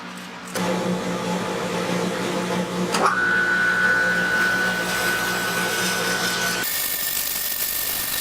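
Power drill boring a hole into the back of a handmade wooden pin-up style bottle opener to seat a magnet, a steady high whine that rises in pitch partway through against workshop hum, running close and continuous before cutting off.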